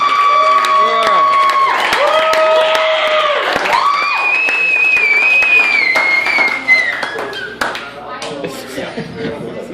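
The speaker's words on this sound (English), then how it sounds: "Put your hands together for Mr. Jonathan Lewis." A comedy-show audience in Ft. Smith cheers and applauds as the evening's final comedian is introduced: a dense, loud wash of clapping with whoops and shouts that thins out toward the end.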